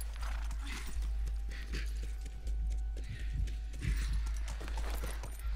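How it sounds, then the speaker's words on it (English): Horse hooves clip-clopping in The Last of Us video game, a steady run of hoof beats over a low rumbling game ambience, moderately loud with no talk. "Get the horse."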